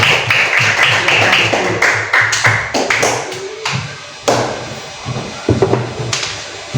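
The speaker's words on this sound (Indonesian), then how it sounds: "tepuk tangan untuk anak-anak yang maju di depan" Children applauding in a classroom, a scattered run of sharp claps from a small group that comes in uneven bursts rather than one steady ovation.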